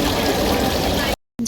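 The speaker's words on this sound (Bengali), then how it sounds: "ঝর্ণার মতো জল পড়ছে, আওয়াজটা কি ভারী সুন্দর লাগছে না?" Water falls like a fountain at a crafts fair, a steady close splashing rush that cuts off abruptly before a brief return.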